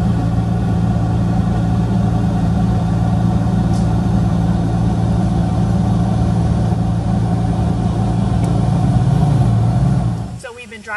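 A car drives through a palm oil plantation in Borneo, its engine and road noise forming a steady, loud low drone heard from inside, which fades away at the very end.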